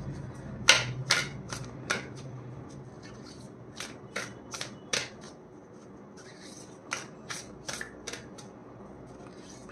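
Tarot cards are shuffled in a series of crisp, riffling bursts, close and fairly quiet, with short pauses between each shuffle.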